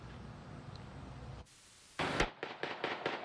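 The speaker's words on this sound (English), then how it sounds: "You're listening to just a handful of several hundred rounds of gunfire that turned this Wasco neighborhood on Sunday into a war zone" Rapid gunfire during a deadly neighborhood shooting in Wasco, heard after a stretch of steady hiss and a burst of static: a loud crack followed by a quick run of sharp, evenly spaced shots.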